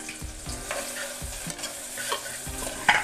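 Onions and long-cut green chillies frying in hot oil, a constant close sizzle broken by repeated knocks and scrapes of a stirring spoon against the pan; no talking.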